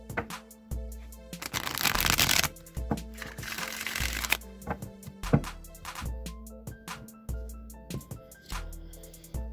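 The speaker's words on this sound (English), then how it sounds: "I'm going to shuffle the Rider-Waite deck 3 times" A Rider-Waite tarot deck is shuffled in two rough, papery bursts of riffling cards, close and fairly loud, over soft background music with scattered card taps and handling noises.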